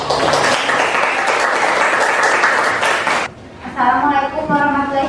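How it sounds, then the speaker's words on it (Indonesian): A classroom of students claps together loudly for about three seconds, then the applause cuts off sharply and a single voice begins speaking nearby. "beri tepuk tangan."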